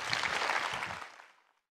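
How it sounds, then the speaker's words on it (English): A conference audience at the Social Good Summit in Australia gives a round of applause, a dense wash of clapping that fades away within about a second and a half. "can you please give a huge round of applause for the Commissioner of Resilience,"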